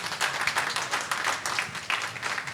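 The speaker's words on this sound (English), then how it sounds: "I think we all need a round of applause for her" An audience applauds a guest who has travelled from Bhubaneswar to a stage event, a steady wash of many hands clapping at moderate volume through the whole stretch, with no speech over it.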